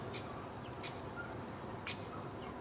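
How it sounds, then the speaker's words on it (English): Scattered short chirps and tweets from a flock of birds flying across a snowy mountain horizon, thin and fairly distant over a steady wind-like background rush; no voices. "there's loads of birds just flying across the horizon there"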